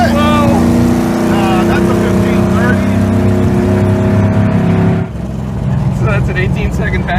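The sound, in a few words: car engine revving during a drag strip pass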